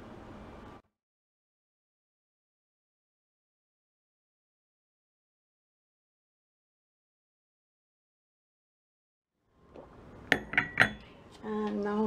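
Cups and cutlery clink and rattle close by as green tea is made with a kettle, after a long silence, with a burst of sharp metallic and ceramic knocks at the end.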